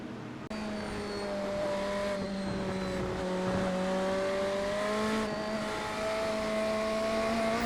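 Engine roar from GTP prototype race cars in a racing video game, a sustained high revving note that drops and climbs through gear changes as the cars brake into a corner and overtake, loud and continuous.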